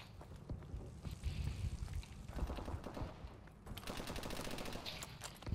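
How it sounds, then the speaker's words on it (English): Rapid gunfire bursts in the online shooter Advanced Warfare during ranked play, a fairly faint, steady rattle of automatic shots that grows denser toward the end. "I got shot in the back"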